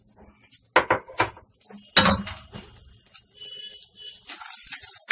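250 grams of almonds tipped into a pan to fry for panch meva paag, giving a few sharp clattering bursts followed by a steady, rising hiss of sizzling.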